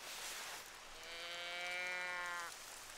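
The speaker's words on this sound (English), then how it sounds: "Let's try this bleater once again." A bleater call in the hunting video game theHunter: Call of the Wild: one drawn-out, nasal bleating cry lasting about a second and a half, heard over soft rain hiss, no talking.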